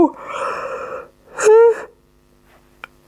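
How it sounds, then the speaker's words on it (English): A person yawns deeply, drawing a long breath that swells into a loud open-mouthed exhale, followed by a brief quiet click. "That was a deep yawn"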